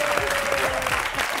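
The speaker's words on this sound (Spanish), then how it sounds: "Ay, aplaudir, aplaudir." Brief burst of audience applause in a studio setting, steady dense clapping at moderate loudness with a faint voice mixed in.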